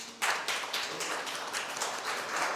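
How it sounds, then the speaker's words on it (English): A short burst of scattered hand clapping from a small group follows a request to applaud a singer at the end of an interview, faint and fairly close, lasting a couple of seconds with no talk over it. "A round of applause for her, please."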